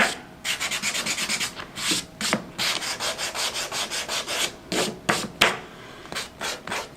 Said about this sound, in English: I actually do sand a lot when I do a blending because it just kind of helps the transitions from one color to the next